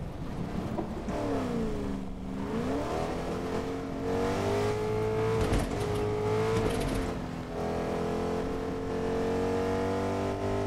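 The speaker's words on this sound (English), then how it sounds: "let's get into the car and start driving" In the Fortnite video game a car engine drones steadily while driving, its pitch climbing and dipping with acceleration at a moderate distance, with no voices over it.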